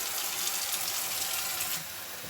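Water runs from a kitchen sink tap to rinse cooked sausage for homemade lasagna, giving a steady, close splashing hiss that eases slightly near the end.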